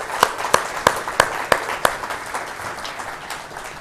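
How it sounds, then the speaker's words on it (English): Brief round of audience applause at a tech presentation for the Isabel team, opening with several sharp, evenly spaced claps and then thinning into a softer, fading patter. "let's just give them a little round of applause"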